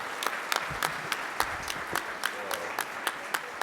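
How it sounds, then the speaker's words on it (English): Modest round of applause for Mr. Reaver Bingham at a county re-entry center conference, scattered individual claps standing out over a soft room murmur, fairly quiet and steady. "If you guys with me can give a round of applause to Mr. Reaver Bingham, please"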